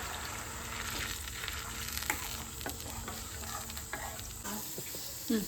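Ground cooked tomato going into a pan of frying garlic for pasta sets off a steady, close sizzle with soft stirring scrapes and a few light clicks, with no talking.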